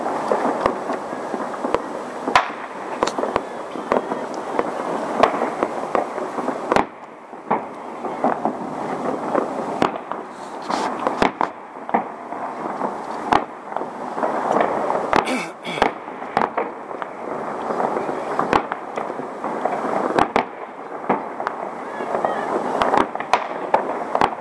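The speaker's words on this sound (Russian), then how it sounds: "Как одиночные залпы производят фейерверка." New Year fireworks salvos fired from launch installations: sharp bangs and crackling bursts repeat irregularly throughout, over a constant roar of wind and crowd noise, fairly close, with someone talking over them.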